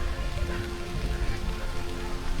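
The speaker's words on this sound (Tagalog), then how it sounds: "Umuulan at saka nagpa-flurries." Rain falls steadily on surfaces during a trick-or-treat outing, a dense continuous patter that stays even and fairly close, with no talk over it.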